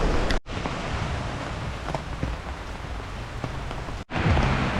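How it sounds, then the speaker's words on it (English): Heavy tropical rain in Phuket, heard from under cover at an open breakfast spot: a loud, constant hissing roar of downpour with scattered heavier drips and splashes, two brief dropouts, and no voices. "it's actually nice for a change to have this really heavy rain and be undercover"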